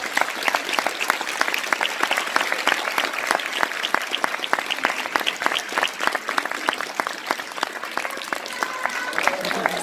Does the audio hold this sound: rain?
no